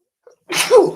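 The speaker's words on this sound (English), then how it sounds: "big sneeze" One big, explosive sneeze bursts out close and loud after a brief faint intake of breath, then cuts off, with silence around it.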